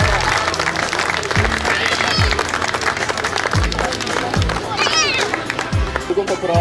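Sustained crowd applause for football club players at a season-closing club event, steady and full throughout, with rhythmic low thumps underneath and a voice speaking over it.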